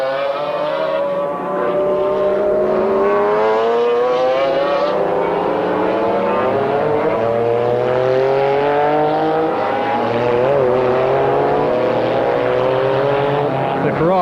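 A Ferrari F40 GT race car runs at the Paul Ricard circuit in 1995, its engine holding a loud, sustained howl that rises and falls through the gears, with a commentator talking over it throughout.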